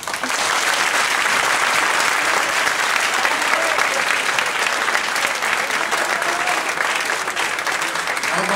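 Sustained, dense audience applause filling a hall at a university poetry recital (kavya path) in Mathura, steady and loud throughout without a break.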